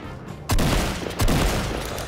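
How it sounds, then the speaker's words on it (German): Gunfire in the mobile battle royale game Fortnite Mobile: two loud, sharp shots about three quarters of a second apart, each followed by a dense rattling tail, with no talk over them. "Ich glaube, die Schüsse kamen von hier irgendwo."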